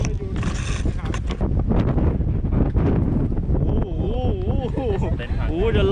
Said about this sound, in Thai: แรงจัดนะลมแรงจัด